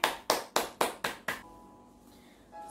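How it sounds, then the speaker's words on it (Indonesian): Children clapping their hands together during a church kids' service: six sharp, evenly spaced claps in a steady rhythm, fairly close, then fading into quiet room tone. "Tepuk tangan adik-adik"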